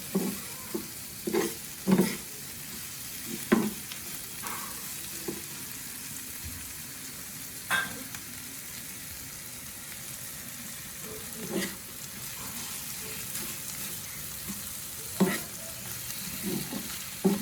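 Dried seer fish (vanjaram karuvadu) fries in a pan for thokku. A steady sizzle runs underneath while scattered spatula scrapes and knocks break in at irregular intervals, with no speech.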